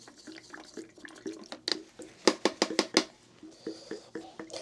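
Tap water splashing as a 1-inch paintbrush is rinsed clean, with scattered wet sloshes building into a quick run of sharp splashing strokes before settling again, close and fairly loud.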